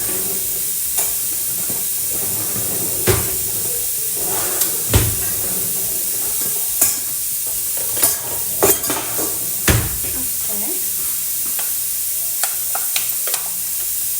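Meat and onions sizzling in a pot while a cooking spoon stirs them, steady frying hiss broken by repeated sharp clanks and scrapes of the spoon against the pot, close up with no speech.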